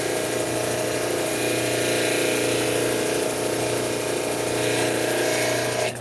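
A lapidary polishing machine runs its 14,000-grit wheel against a thunderegg cabochon, giving a loud, steady motor whine and hum that holds evenly for several seconds before easing slightly at the end.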